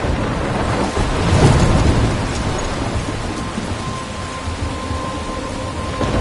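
A loud thunderstorm rages in Life is Strange, steady heavy rain pounding down with a deep thunder roll swelling early, no voices.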